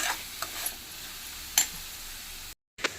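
Ingredients sauté in a pan for a quick breakfast, a soft steady sizzle with a few clicks and scrapes of stirring, close and moderately quiet, cutting out briefly near the end.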